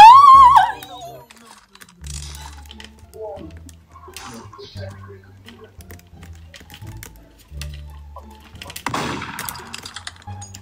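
Gunfire in the Roblox game Murder Mystery 2, a few sharp shots scattered through the clip with a louder burst near the end, mixed with game effects and keyboard clicks under a player's talk.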